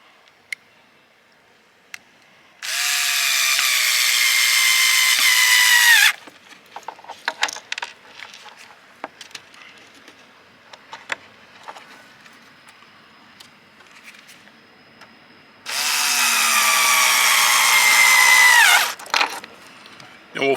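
Small screws being driven into a Cannon downrigger part by a power driver, two loud whirring bursts of a few seconds each, separated by quiet clicks and handling noises.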